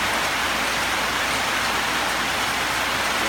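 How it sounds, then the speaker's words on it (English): Steady rain falls on a covered shelter at a fairground, a dense, even hiss of drops drumming on the roof throughout, close and continuous with no voices. "We're just hanging out here, waiting for the rain to let up a little bit before we proceed."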